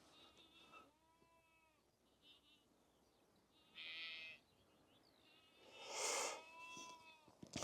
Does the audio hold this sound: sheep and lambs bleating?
yes